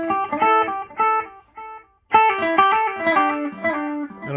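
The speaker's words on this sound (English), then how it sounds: "I'll turn off the reverb so you can hear the delay better." Electric guitar through a Roland Cube 80X amplifier's delay effect with reverb off: warm phrases, notes repeating and trailing off after each phrase, a short pause, then a busier run of echoing notes.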